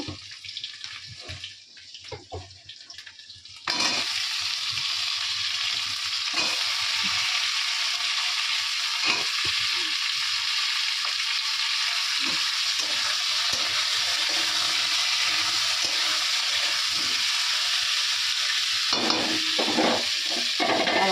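Vegetables hit hot oil with panch phoron, onion and chilli, and after a quieter start a loud, steady, hissing sizzle sets in and runs on without a break.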